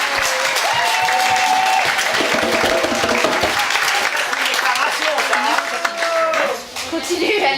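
A crowd at a summer celebration applauds steadily and loudly for about seven seconds, dense clapping with cheers and voices mixed in, tapering near the end.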